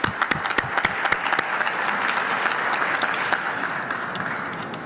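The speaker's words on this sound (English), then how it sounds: "Another round of applause for that as well too." Audience applause at a Cleveland press conference on the 2022 NBA All-Star Game, sharp individual claps at first that thin into a softer, fading patter.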